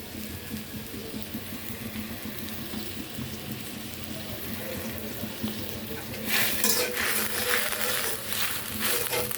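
Cumin seeds tossed into hot oil with coriander and turmeric, in a prawn and Malabar spinach curry, give a continuous crackling fry that swells into a brighter, louder sizzle partway through.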